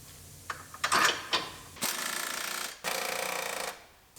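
Hand ratchet bolting a part onto a GMC truck during a repair: a few quick metallic clicks, then two sustained runs of rapid ratcheting, close and clear with no talking.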